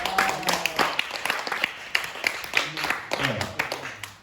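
A small group at a church youth service gives a brief, scattered round of clapping. A few separate claps and light voices mix in, and the applause fades quickly.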